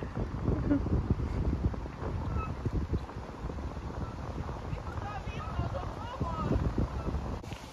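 Strong wind buffets the microphone in a steady low rumble at Blockfest, with a voice talking over it and faint boat-like background noise.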